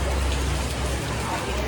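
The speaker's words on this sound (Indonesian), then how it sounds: "Ya sayangnya hujan" Steady rain falls on surfaces during a stop on a Minang traveler's road trip, a dense, continuous hiss that fills the whole moment with no clear voices.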